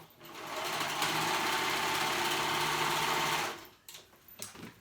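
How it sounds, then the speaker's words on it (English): A sewing machine stitches the side seams of a woven peasant dress, running in one steady, close whirring burst for about three seconds before it stops and leaves quiet handling noises. "So now my sides are sewn together."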